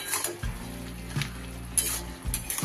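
Spinach and vegetables with taro are stirred in a pan after the lid comes off: a soft simmering sizzle broken by a few scraping spatula strokes and light clinks against the pan.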